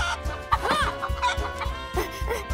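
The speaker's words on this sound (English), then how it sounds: "Chickens, chickens!" Cartoon chickens clucking in a farmyard, a busy run of close, repeated clucks and squawks over about two and a half seconds, with no talking.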